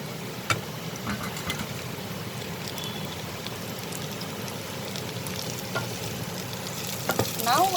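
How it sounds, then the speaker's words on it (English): Potatoes for an egg and potato scramble frying with onion and green chili, a continuous close sizzle with light stirring scrapes and a few sharper clicks and knocks against the pan, no voices. "fry it together with the onion and the green chili"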